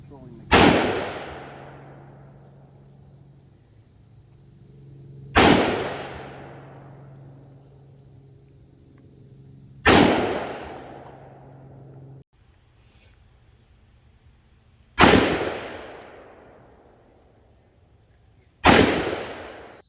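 Single gunshots from students at a gun range crack out about every five seconds, five loud sharp reports each with a short echoing decay over a faint background hum.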